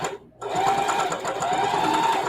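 A freshly rethreaded sewing machine stitches a test seam with a steady, moderately loud mechanical whirr and needle chatter that starts after a brief pause and runs continuously.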